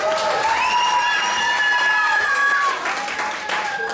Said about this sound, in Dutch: mag ik eerst een grote applaus voor deze twee vechters